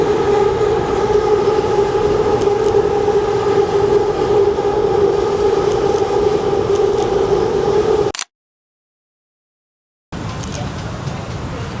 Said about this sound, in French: on a aussi un métro aérien, c'est vraiment très futuriste.